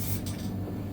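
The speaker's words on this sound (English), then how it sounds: "now we're going to spray it" An aerosol spray paint can hisses steadily onto a car bumper, a close, continuous spray lasting the full second with a slight surge near the start.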